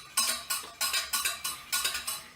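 Spoon scraping and clinking against a bowl while stirring hot blueberry filling for a raw vegan blueberry tart, in seven or eight regular strokes, close and fairly quiet with no talking.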